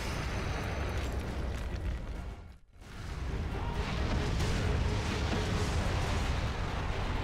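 Explosions from a thermobaric tank in the Prototype video game, a continuous heavy roar of blasts and booms that briefly drops out midway before surging back loud and dense.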